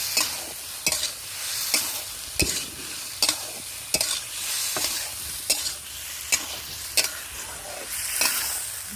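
Fried pointed gourd and potato stir-fried in a pan, with a continuous sizzle broken by regular sharp spatula scrapes and clacks roughly every second.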